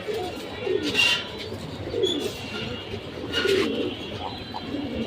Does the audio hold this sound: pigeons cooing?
yes